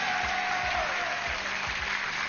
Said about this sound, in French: Isabelle, qu'on applaudit